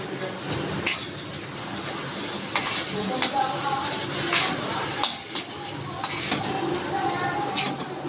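Jackfruit and shrimp paste fry over low heat in a wok with a continuous gentle sizzle, broken by occasional scraping and clinking as a utensil stirs against the metal.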